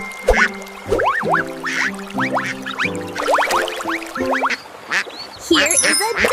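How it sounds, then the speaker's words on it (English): Ducks beside a pond quack repeatedly in a busy, overlapping chorus, loud and close, with several birds calling in quick succession throughout. "Look at the beautiful ducks!"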